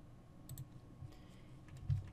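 Computer mouse clicks made while working in a circuit simulator. A few soft, close clicks sound over quiet room tone, with no speech.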